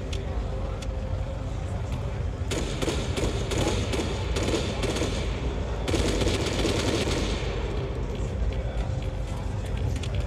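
Gunfire in the military shooter ArmA 3 crackles at night as dense, rapid bursts of automatic shots with booming thuds over a loud continuous background rumble, a voice talking over it.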